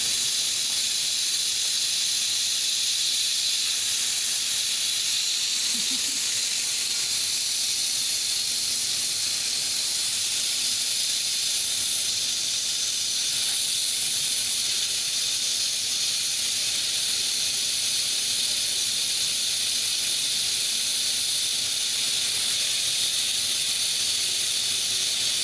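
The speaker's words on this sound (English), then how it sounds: "release some of the pressure to regulate the pressure in the can" A loud, steady hiss of steam escaping under pressure from a pressure canner's release nozzle, continuous and unbroken for the whole stretch, close by and with no talking.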